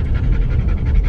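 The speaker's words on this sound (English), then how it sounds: "That is the sound of a happy, well-exercised dog." A happy dog pants rapidly and rhythmically after exercise and getting muddy and wet, breathing heavily close up with steady, even huffs.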